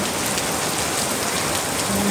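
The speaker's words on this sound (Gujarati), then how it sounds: "તમે જોઈ શકો છો એટલો જોરદાર ફૂલ વરસાદ સ્ટાર્ટ થઈ ગયો છે" Heavy rain pours outside in a dense, continuous hiss of drops hitting surfaces, loud and unbroken with no voices.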